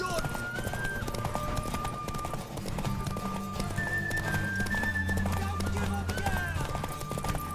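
Rapid rhythmic hoofbeats clip-clop along steadily with game music and tonal effects layered over them, and a horse whinnies amid the galloping, in The Witcher 3: Wild Hunt.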